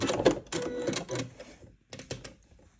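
Sewing machine stitching fabric in a straight line while the material is guided by hand rather than pushed, heard as short bursts of rapid mechanical stitching with brief pauses between runs, close and moderately loud.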